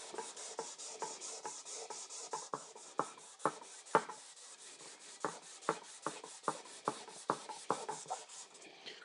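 Sandpaper is rubbed by hand over stainless steel in repeated rasping strokes, each pass a short scratchy swipe in an irregular rhythm, close and fairly quiet.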